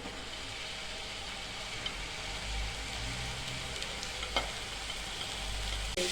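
Cooked rice being stirred into sautéed jaggery and grated coconut in a pan for sweet coconut rice, giving a steady soft sizzle with scraping stir noises and a few sharp utensil knocks, no talking.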